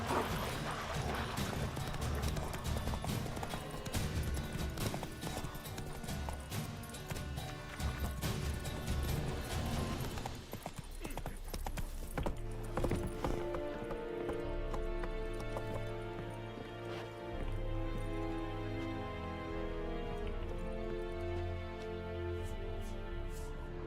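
Roach the horse's hooves clip-clop in The Witcher 3, a steady walking rhythm over dense game music and ambient noise, with a busier stretch early on giving way to calmer scored music.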